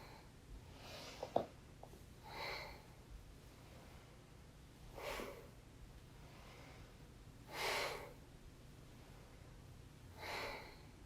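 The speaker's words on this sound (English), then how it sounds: "Nice, long, deep breathing." Slow, long, deep breaths during a yoga session. Four soft, drawn-out breath sounds come at even intervals of about two and a half seconds in a quiet room, with a brief rustle near the start.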